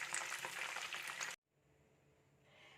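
Crispy chicken fry sizzling loudly in hot oil as pieces are scooped out, a dense crackling hiss that cuts off abruptly halfway through and leaves only a faint low hiss.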